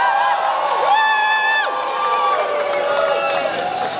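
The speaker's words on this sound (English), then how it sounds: "So come on, give us a cheer!" A crowd at an outdoor anti-Trump protest in a city square cheers and whoops from a distance, high voices rising and falling in overlapping shouts over a steady murmur.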